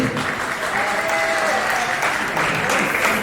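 Audience at a Marrakech arts and culture gala applauds Karima Ritt, loud dense clapping close by, steady throughout, with a voice briefly carrying over the crowd.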